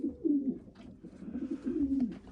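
A young racing pigeon coos in a loft, with soft repeated throaty coos rising and falling close by, heard alone.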